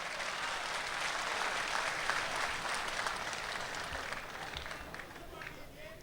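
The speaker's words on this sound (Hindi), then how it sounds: "ज़ोरदार तालियों से मुझे इजाज़त दें" Sustained applause from a large audience at a poetry recital gathering in Dubai, dense steady clapping that fills the whole stretch and eases slightly toward the end.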